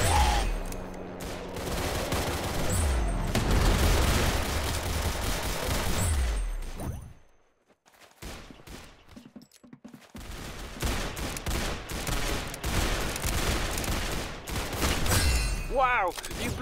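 Rapid bursts of gunfire from the Roblox Arsenal shooter game crackle loudly and almost continuously, dropping out briefly midway before resuming, with voices talking over the shooting.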